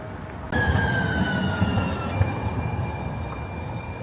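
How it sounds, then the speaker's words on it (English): A San Diego Blue Line light rail train rolls past close by on a downtown street, a steady rumble with high whining tones from the wheels and motors. "The Blue Line train runs across town."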